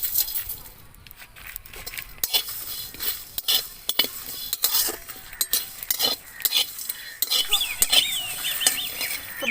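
Whole spices are dry-fried together in a kadai for mango pickle, with repeated metallic scrapes and clinks of a spatula stirring against the pan, close and fairly loud, over faint background sizzling.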